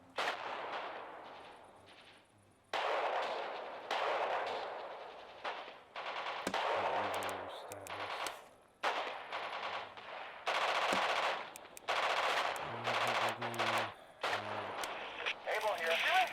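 Bursts of machine-gun fire and rattling gunshots crackle in the Radio General war game at Pachino, coming in loud repeated volleys separated by short gaps, with radio chatter between them.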